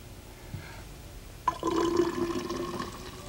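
Water poured into a siphon container during a science demonstration starts abruptly partway through, a steady, close splashing and filling sound that continues to the end after a quiet opening.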